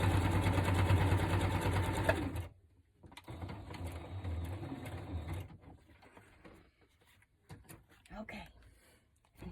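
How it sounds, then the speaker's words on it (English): A sewing machine stitches a paper and fabric journal tag topper, whirring steadily and loud for about two seconds before stopping, followed by quieter handling clatter and soft mechanical clicks. "I sewed that on."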